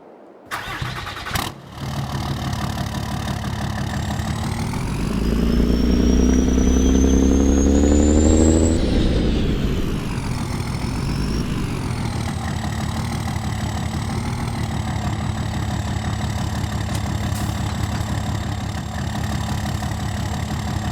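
A work truck engine in Farming Simulator 22 starts up, swells into a louder revving surge for a few seconds, then settles into a steady, continuous idle hum, heard alone without talk.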